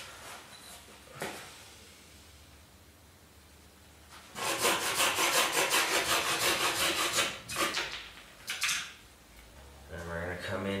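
Steady back-and-forth strokes of a hand saw cutting into wood while a wooden buck saw is built, a long sustained run of rasping passes followed by a few shorter bursts, with a voice speaking near the end.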